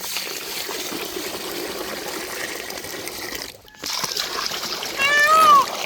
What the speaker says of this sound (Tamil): சீரக சம்பாவை தண்ணி ஊற்றி அலசிக்கிறோம்